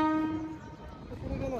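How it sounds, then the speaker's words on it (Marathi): A train pulls in with its horn sounding in a long steady blast that fades partway through, rumbling low underneath at a crossing near a station. "चला आता रेल्वे येते,"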